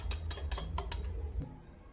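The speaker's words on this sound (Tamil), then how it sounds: "அந்த பீட்டர் வச்சு நல்லா கெட்டி இல்லாமல் மாவை மிக்ஸ் பண்ணிக்கோங்க" A beater whisks cornflour into grape juice in a bowl, giving a quick series of close, light clicking taps and swishes that stop abruptly near the end.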